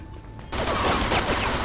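Tommy gun fire in the game Mafia II erupts after a quiet start, a dense continuous burst of rapid automatic shots that fills the rest of the moment loudly.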